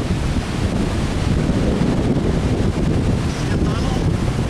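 Heavy storm wind buffets the microphone in a steady, loud roar during a high-wind storm in Columbus. Gusts swell and ease throughout, with faint voices buried underneath.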